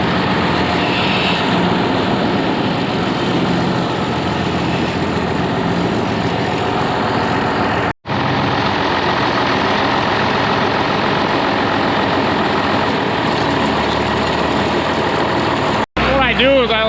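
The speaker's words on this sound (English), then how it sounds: "Start my loader up and my mixing tractor before I start scraping." On a dairy farm, a loader and a mixing tractor idle together with a steady, loud diesel drone that runs unbroken, apart from two brief dropouts. Speech may be present under the engine noise.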